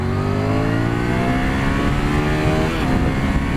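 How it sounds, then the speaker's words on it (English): A 2022 Triumph Tiger 900 Rally motorcycle accelerates hard through second gear on the road, its engine note rising steadily in pitch, loud and close with no talk. "Straight through second gear. Very nice, Tiger 900."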